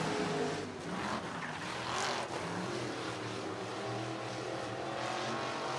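IMCA modified race cars roar around a dirt track at Sunset Speedway Park, a loud continuous engine drone with passing surges, heard from trackside during a race.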